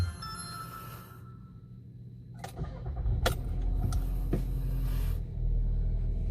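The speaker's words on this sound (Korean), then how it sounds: "시동 거는 소리 들려드릴게요." A 2020 Volkswagen Jetta with stop-and-go fires up after a short crank, the engine settling into a low, steady idle close by, with no talking.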